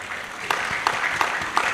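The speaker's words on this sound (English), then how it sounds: "A round of applause for him." Steady applause from a crowd at a decoration ceremony for newly promoted service officers, continuous clapping with a few louder claps standing out, fairly near.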